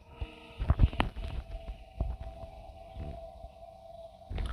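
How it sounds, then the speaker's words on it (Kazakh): A low, eerie whale call drifts through an echoing, game-like ambience, with a few soft thumps and taps scattered around it. "О, кит бар."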